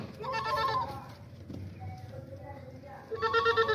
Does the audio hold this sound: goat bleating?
yes